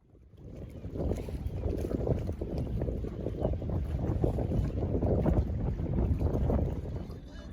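Strong wind roars steadily against the microphone aboard a moored sailboat in Finland, a dense, rumbling rush that swells and gusts, with no voices.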